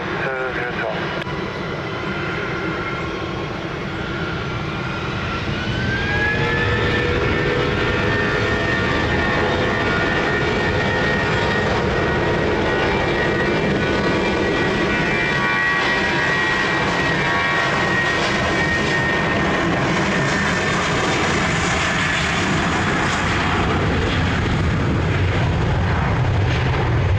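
A jet airliner takes off from runway 20 at Lisbon Airport, its engines building into a loud, sustained roar that stays strong for nearly half a minute, with faint radio talk underneath.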